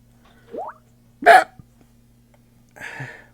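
A short, sharp hiccup-like gulp rings out clearly between quiet pauses, with a couple of softer vocal noises before and after it.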